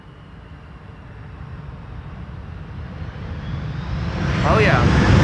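An arriving airliner, nine years old, comes in to land on Schiphol's Polderbaan runway with a steady engine roar that grows steadily louder as it nears, under a brief voice.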